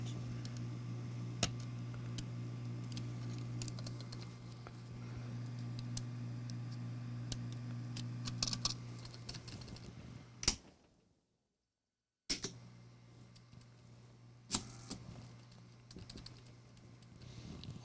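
A Juki Sierra electronic typewriter runs with a steady motor hum and scattered keyboard clicks and ticks, then goes silent for a moment when the keyboard jams before humming and clicking again.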